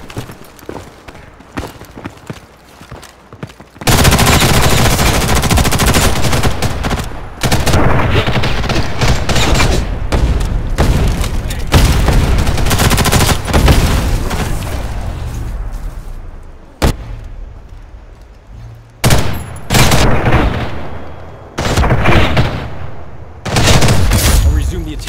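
Sustained gunfire in the shooter game Ghost in the Shell First Assault Online, loud automatic bursts and explosive booms running almost continuously after a quieter opening, with a few brief pauses and game voices mixed in.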